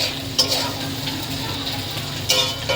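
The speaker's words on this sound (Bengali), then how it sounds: "দিয়ে এটাকে ভালো করে নাড়বো।" Carrots and beans sizzle loudly in a pan for egg and vegetable chow mein while being stirred, with a couple of sharp scraping strokes over the steady frying.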